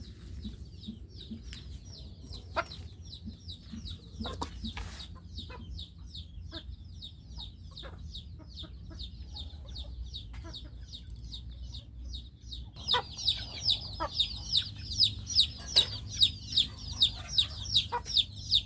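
Chickens cluck in a rapid, repetitive series of short calls that grows louder and denser toward the end, set against a low rumbling background.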